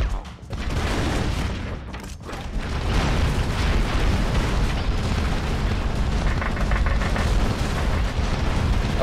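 Bombs explode in the side-scrolling action game Broforce, producing a dense, continuous barrage of loud booms and crackling blasts that barely lets up.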